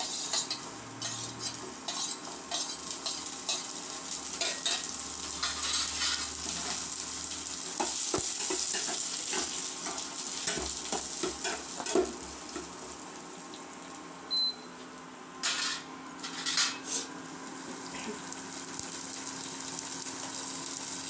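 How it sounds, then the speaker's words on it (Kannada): Chopped beans, carrot, capsicum and onion fry in a pan for pasta masala upma, a steady close sizzle punctuated by repeated spoon scrapes and clinks against the metal, with no voices. "ಇಷ್ಟನ್ನು ಕೂಡ ಒಟ್ಟಿಗೆ ಹಾಕಿ 1-2 ನಿಮಿಷ ಫ್ರೈ ಮಾಡೋಣ."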